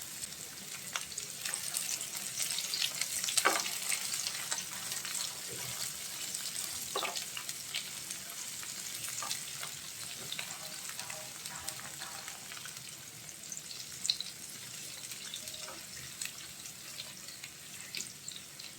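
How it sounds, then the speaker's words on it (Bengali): Onion frying in a pan for a Bengali mixed vegetable fry with kakrol and bitter gourd, giving a steady, close hiss of sizzling with small crackles and a few louder pops, and no talking. "পেঁয়াজটা একটু ভেজে নেব।"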